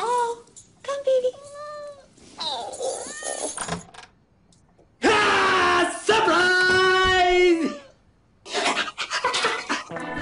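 A cat meows repeatedly in a Hindi comedy scene, with several loud, drawn-out, rising and falling calls separated by short pauses, close up.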